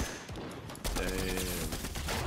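Rapid gunfire bursts from a weapon with a red dot sight in the video game Fortnite, a dense rattling volley that kicks in loudly after a quieter start and continues to the end, with no speech over it.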